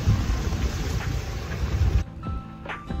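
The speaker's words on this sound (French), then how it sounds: "Le vent et les vagues ne font que s'intensifier." Loud, steady wind roar with rushing water and wave wash at sea near Île aux Coudres, buffeting the microphone; the noise drops sharply partway through to a quieter churn.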